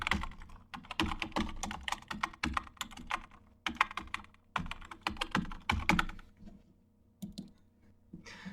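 A password and captcha typed on a computer keyboard for an online passport account login, steady bursts of close key clicks with brief pauses, no talk.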